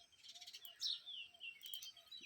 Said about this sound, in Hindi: देखें यहाँ पीछे कैसे, सुन रहे हो आप, कैसे यहाँ पे यहाँ की घुघुती